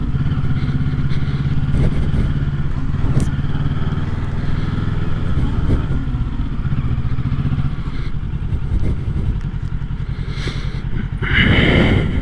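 A new 2025 Kawasaki Ninja 650 sport bike engine drones steadily while riding, its pitch shifting with downshifts, and a wind-buffeting rush rising near the end.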